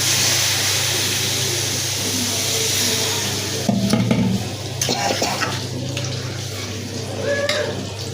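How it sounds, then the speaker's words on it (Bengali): Water is poured into lentils in a pot, a gushing splash and bubbling rush over a background sizzle, followed by clinks and stirring noises, close and fairly loud. "এখানে আমি ডাইলে পানি দিয়ে দিব।"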